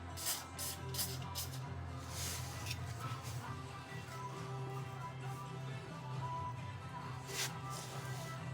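Spray cleaner squirted onto a vehicle part near a brake rotor, with several short bursts of hiss near the start and another near the end over a steady low hum.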